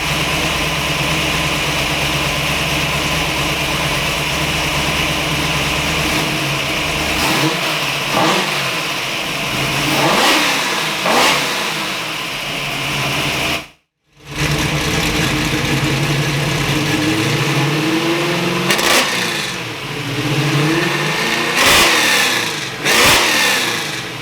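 A car engine with a misfire problem runs steadily as it warms toward operating temperature, a loud, close, continuous hum with a few rises in revs and one brief cut near the middle.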